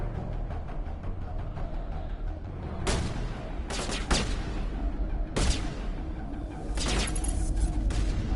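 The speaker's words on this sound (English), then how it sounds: "This sniper rifle fucking cracks." Sniper rifle shots in the video game Warzone 2.0, several loud sharp cracks at irregular intervals over a dense background of distant battle noise and gunfire.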